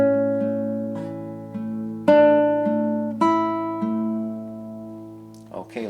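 Acoustic guitar plays the A section of a song arrangement, a clear fingerpicked sequence of ringing chords and plucked notes with several accented strums, close and solo with no talking.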